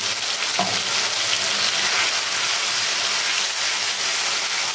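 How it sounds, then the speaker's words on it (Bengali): Ginger garlic paste and masala sauté loudly in a hot pan for butter chicken, with a dense continuous sizzle and a brief scrape of stirring near the start. "আদা রসুনের পেস্টটা দিয়ে ভালো করে মশলাটা কষিয়ে নেবেন। মশলাটা এইভাবে ভালো করে কষাতে থাকবে।"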